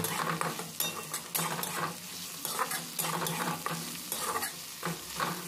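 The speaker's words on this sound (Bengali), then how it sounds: "আদা রসুনটা হালকা ভেজে নিতে হবে পেঁয়াজের সঙ্গে।" Ginger-garlic paste frying with onions in a pan, loud sizzling broken by repeated rhythmic stirring scrapes of a spatula against the metal, close and without talk.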